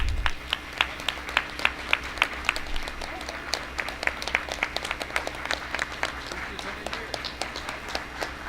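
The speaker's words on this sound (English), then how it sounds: "Let's give them a round of applause." A small group claps at a school board meeting, distinct individual claps ringing out in an uneven patter that carries on steadily, with a low hum and brief talk in the room.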